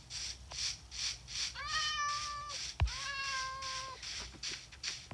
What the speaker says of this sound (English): And we're going to get a kitty.